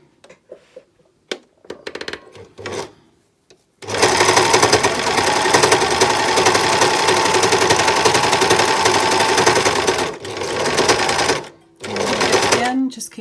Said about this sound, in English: I'm just going to overlock all the way along.